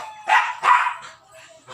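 A dog barks twice in quick succession nearby, followed by a softer yip, with quiet pauses between.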